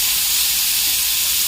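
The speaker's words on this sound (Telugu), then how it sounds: "ఇలాగా టమాటా ముక్కలు వేసేసుకుందాం" Tomato pieces sizzle in a hot frying pan while onions and ginger cook alongside, a steady, close, even hiss of frying with no voices.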